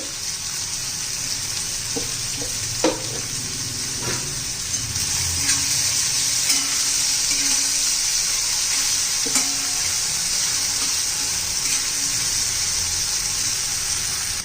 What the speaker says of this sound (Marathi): टोमॅटो पण चांगला मऊ होईपर्यंत आपण परतून घेणार आहोत